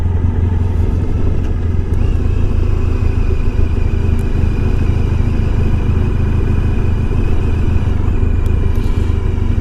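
A 1994 Honda ST1100 Pan European motorcycle riding along with its choke left on, giving a loud, steady low engine drone and road rumble that holds an even level throughout, with no voices.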